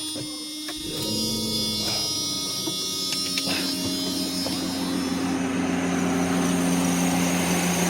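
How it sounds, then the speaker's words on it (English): A Mercedes 600SL engine with repaired throttle actuators and Egas module cranks and catches about a second in, then settles into a steady, close, droning idle with a faint wavering hum and no talking. "Start the engine up."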